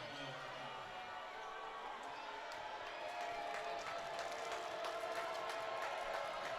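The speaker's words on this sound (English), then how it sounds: "The Trinity crowd loud and proud here, trying to make sure that they whiff this free throw." Crowd noise at a high school boys' basketball game during a free throw, a steady roar of voices from the stands that grows a little louder partway through, with scattered cheers and faint clapping.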